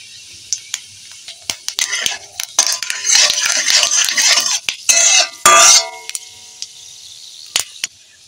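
A bay leaf and a dried red chilli hit hot mustard oil in a kadai for a whole-spice tempering, giving bursts of crackling sizzle with a few light clinks of a utensil, close and fairly loud.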